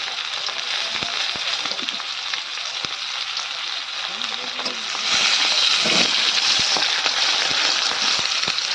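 Fish frying in hot oil makes a loud, dense, continuous sizzle with scattered pops and crackles, growing noticeably stronger and hissier partway through, with faint utensil sounds underneath.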